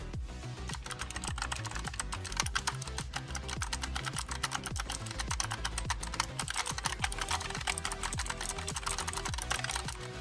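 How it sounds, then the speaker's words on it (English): Fast, steady clicky typing on an EVGA Z20 optical mechanical gaming keyboard, close and crisp, with rapid overlapping keystrokes and no voices. "This is what the keyboard sounds when you're raising."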